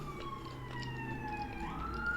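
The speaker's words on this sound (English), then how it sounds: "Oh, here comes the ambulance." An ambulance siren wails past on a nearby street, its sweeping tone bending downward then rising again as it goes by, loud and steady over traffic rumble, with no talk.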